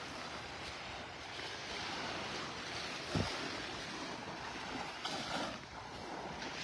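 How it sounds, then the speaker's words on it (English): Ocean surf breaking over an offshore sandbar at Vanderbilt Beach on Florida's west coast, a steady wash of waves with gentle swells and a faint breeze, heard from the shore with no talking. "You can see the waves kind of breaking over top of it every now and then."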